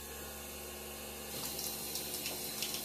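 Water runs over a stained glass microscope slide in a 1980s hematology lab, a soft, faint steady trickle that grows slightly louder and splashier partway through.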